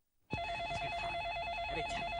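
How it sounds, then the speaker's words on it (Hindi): A telephone rings in an office, a steady electronic warble with sharp, continuous tones that starts abruptly after a brief silence and carries on loud and close. "फोन क्यों नहीं उठा रहे?"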